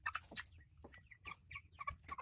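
Homestead chickens clucking close by, a busy run of short, quick clucks and squawks in an irregular rhythm, fairly faint and with no talking.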